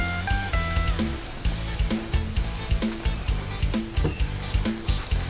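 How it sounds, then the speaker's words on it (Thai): Wide rice noodles being stir-fried with dark soy sauce in a pan for pad see ew with pork, a steady sizzle broken by repeated scraping and tossing strokes of a spatula, close and alone with no talk. "ผัดให้เข้ากันนะคะ"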